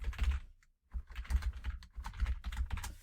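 Rapid keystrokes clatter on a computer keyboard in quick bursts, with a short pause before the typing resumes close by.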